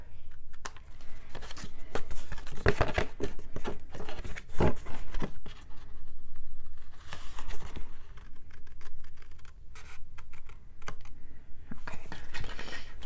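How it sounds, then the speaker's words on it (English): Scissors snip through paper along a drawn arc for a handmade Christmas mini album, a close, irregular series of crisp cuts and rustles with no talking. "and just cut along the line that you just drew"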